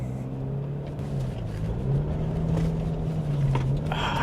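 A 6th generation Toyota 4Runner hybrid engine pulling hard under acceleration, a loud steady low drone that rises slightly in pitch, heard from inside the vehicle with no talking.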